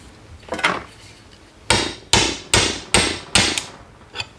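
Hammer striking a chisel to split apart a splitting maul under restoration, about six sharp metallic blows, several in a quick regular series, loud and close with no talk.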